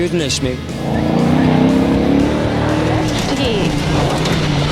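A Ford Falcon XE V8 rally car engine roars loudly and steadily, revving and pulling hard close by during the Targa Tasmania rally, with a voice speaking over the noise.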